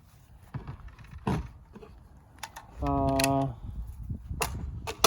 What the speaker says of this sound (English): You push down, hold it, push down, hold it, and pull it out. That's how you take the mag out.